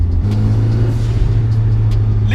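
A 300bhp turbocharged Mazda MX5 engine drones loud and close in a steady, heavy low rumble under load, with a sustained hum that holds without letting up.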